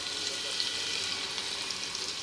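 Curry leaves, cumin, asafoetida and crushed garlic sizzle in hot oil in a pan. The crackling frying sound is steady and continuous, close up, with no speech.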